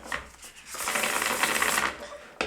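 A deck of cards riffles in a rapid, continuous burr for a couple of seconds, close and fairly loud.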